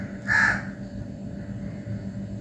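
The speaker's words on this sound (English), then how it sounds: "There's a crow." A single crow caws once, clearly and fairly close, in an otherwise quiet outdoor setting with low background rumble.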